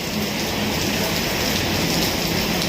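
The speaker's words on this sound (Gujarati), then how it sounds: "એકદમ જોરદાર વરસાદ પડી રહ્યો છે અત્યારે." Heavy monsoon rain pours down at Trimandir Adalaj in Gandhinagar, a dense, steady roar of falling water and splashing on surfaces, constant and close with no voices.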